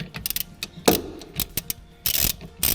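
Ratchet wrench with a 19mm socket cranking loose the brake caliper bolts on a 2017 Chevy 1500 pickup, a quick series of close, sharp clicking bursts in short runs with brief pauses between them.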